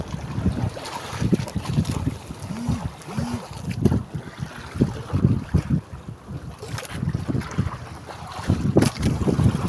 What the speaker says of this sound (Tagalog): Mahangin at maalon.